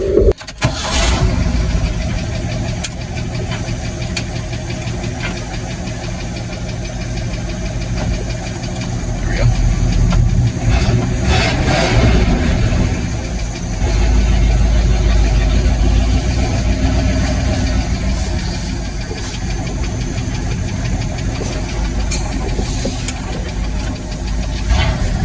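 A neglected Ford F250 truck engine cranks and catches, then runs with a steady, loud, rough idle close by, with revving swells partway through and occasional voices over it.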